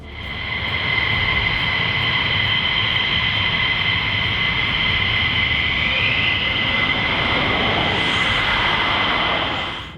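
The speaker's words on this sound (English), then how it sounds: "F-15 experienced a terrifying moment when flames erupted from its engine during takeoff" An F-15 fighter jet on takeoff with flames erupting from its engine in a compressor stall, a loud, steady roaring jet-engine rumble with a high whine held close and continuous throughout.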